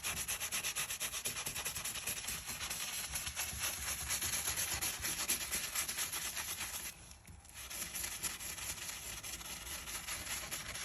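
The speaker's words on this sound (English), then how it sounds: "I'm gonna start scrubbing this one" Grout between tiles scrubbed with a brush in circular motions, a steady close rasping rub that runs almost continuously, with one brief pause near the seventh second before the scrubbing resumes.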